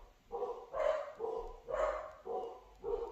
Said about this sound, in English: As my dogs go crazy.